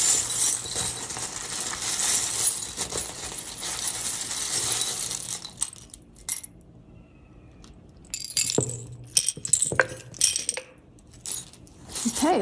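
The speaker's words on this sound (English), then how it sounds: "Let's give the charms a nice shuffle." A handful of small metal charms shuffled and tossed, bright jingling and clinking in a steady rattle, then pausing before a few scattered clinks and a final burst, close and fairly loud.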